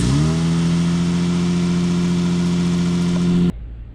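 A car engine cranks and catches, then holds a loud, steady rev for a few seconds with a rough exhaust leak in the tone before cutting off abruptly, at a snowy roadside breakdown.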